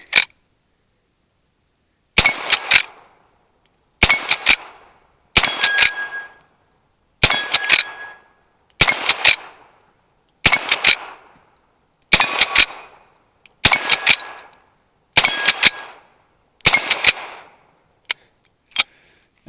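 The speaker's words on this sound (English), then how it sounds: "So we've got the 1873 loaded up with 10 rounds, and we'll do some shooting." Winchester 1873 lever-action rifle firing ten loud, sharp shots at steady intervals of roughly 1.5 seconds, each followed by a brief echoing decay, with a couple of faint metallic clicks of the lever at the end.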